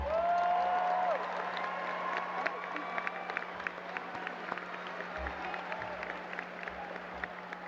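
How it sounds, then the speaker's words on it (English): An audience at a Hutto High School graduation applauds the school staff. A whistle-like tone opens the clip, then scattered, moderately distant claps and crowd murmur follow over a steady hum. "please stand up so everybody can give you a round of applause."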